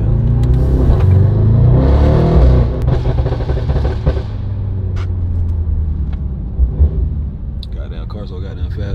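A murdered-out Mercedes-AMG GT63s engine rumbles and revs loudly while driving, as someone talks over it throughout.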